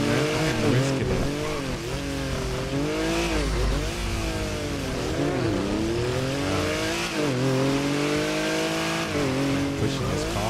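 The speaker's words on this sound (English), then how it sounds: "Pushing this car. This car is always fun to drive" A car engine revs and pulls through gear changes while driving in GTA 5, a loud, close whine rising and dropping in repeated sweeps, with a brief tire squeal.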